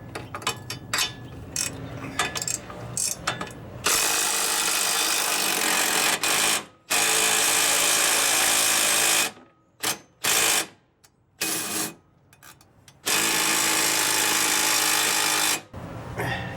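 A wrench works a nylock bolt on a Bombardier Quest 650 quad, with close, loud bursts of rapid ratcheting and scraping broken by several short silences.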